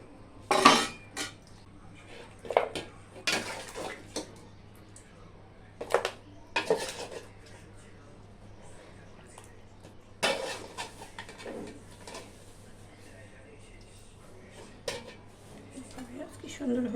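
Metal utensils clink against a pot as cooked beef is lifted out over a clay stove, a few sharp scattered knocks separated by quiet stretches, with talk in between.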